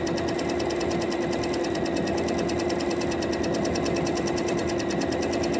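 A sewing machine stitches a decorative border stitch, running steadily with a fast, even mechanical chatter close by and without pause.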